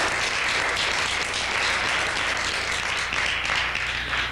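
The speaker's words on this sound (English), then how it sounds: "Let's give him a nice round of applause." A studio audience at a 1993 Portland cable access television taping applauds, a full even patter of many hands holding steady throughout, with no voices over it.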